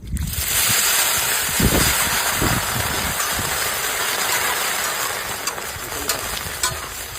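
Water splashed onto salted peanuts roasting on a hot griddle sets off a loud burst of hissing sizzle, with scraping and rattling as the nuts are stirred, fading to a steady sizzle.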